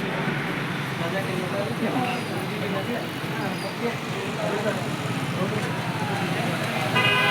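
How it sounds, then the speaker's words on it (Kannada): Busy road traffic outside an office where people have come to get PAN cards, with a continuous dense rumble of passing vehicles and occasional horn toots, and voices talking over it throughout. "ಗಾಡಿ ಸೌಂಡ್ ಎಲ್ಲ ಭಾಳ ಐತ್ರಿ"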